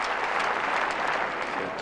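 A tennis crowd at a match between Sébastien Lareau and Richard Krajicek breaks into sustained, dense applause mixed with cheering, loud and even throughout.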